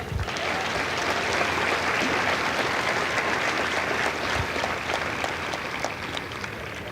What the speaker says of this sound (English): So a round of applause for the recruiters.